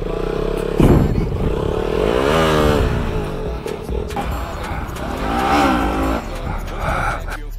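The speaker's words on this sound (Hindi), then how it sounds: "क्लच प्लेट धीरे धीरे छोड़ रहा है ऐसे करके, समीर ट्राई कर रहा है" A Bajaj Pulsar RS 200 motorcycle engine revs and rises in pitch as the clutch is slowly released in first gear and it pulls away, steady and close, with people talking over the engine noise.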